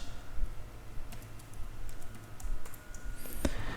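Keys clatter steadily on a computer keyboard while a formula is entered in a Microsoft Excel spreadsheet, several quick close taps and clicks spread over a few seconds under a low hum.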